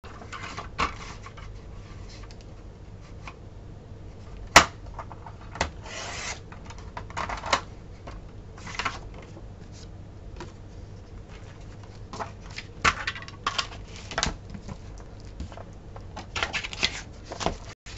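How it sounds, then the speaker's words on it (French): A paper trimmer that cuts crooked slices paper for a handmade mini album, with soft scraping and rubbing strokes, quiet paper rustles, and a few sharper clicks and snaps from close by. "C'est mon massicot qui ne coupe pas droit."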